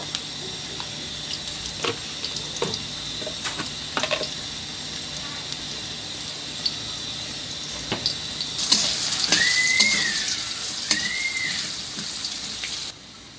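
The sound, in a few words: potatoes frying in oil with turmeric and salt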